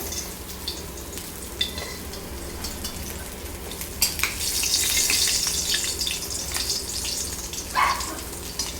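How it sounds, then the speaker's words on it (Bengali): Rohu fish pieces fry in hot oil in a home kitchen, a steady soft sizzle underneath occasional scraping stirs and metal utensil clinks, with a few sharper clatters near the end. "মাছগুলো আরেক দিকেও খুব সুন্দর করে লাল করে ভাজা হয়ে গেছে"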